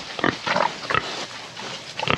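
Farm pigs grunt in their pen as bedding is thrown in, several short, close grunts and snorts in quick bursts with brief pauses between them.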